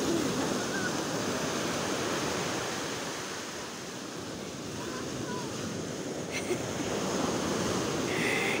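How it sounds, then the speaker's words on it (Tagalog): Strong ocean waves at Saysayin Beach in the Philippines, a constant loud roar of surf mixed with wind noise on the microphone, filling the whole stretch without pause. "Lakas ang alon."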